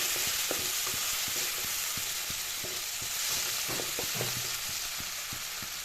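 Cumin and coriander powder fry in hot oil in a pan for a chicken curry, a soft continuous sizzle with repeated light scrapes and taps of a spoon stirring.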